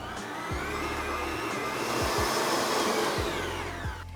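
A stand mixer kneads puff pastry dough with a continuous whirring motor hum, broken by soft, regular low thumps as the dough slaps around the bowl, heard close and alone.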